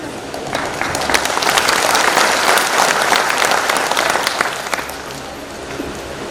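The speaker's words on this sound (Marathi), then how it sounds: "या टाळ्या रेड क्रॉस सोसायटीसाठी आहे" Sustained applause from a sizable crowd at a Red Cross Society event in Barshi, steady and loud throughout, with a slight tapering toward the end.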